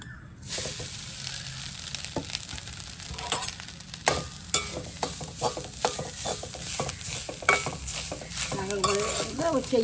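Grated coconut is roasted in a pan for a rava sweet snack, with a constant dry sizzle and frequent close scraping and clacking of a spoon stirring it, loud and without talking.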